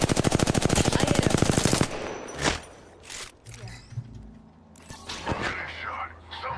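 Rapid automatic gunfire from the video game Apex Legends, a loud dense burst of evenly spaced shots for about two seconds, followed by scattered impacts and game effects.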